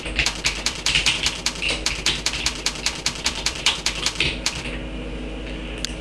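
Rapid, close clicking of keys on a computer keyboard as an email address is entered, a run of crisp taps that stops near the end, leaving quiet room tone.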